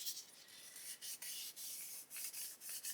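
Coarse sponge sanding the edge of a 1/32 scale model A-20G Havoc aircraft, quiet close-up rasping in short repeated strokes with brief pauses between them.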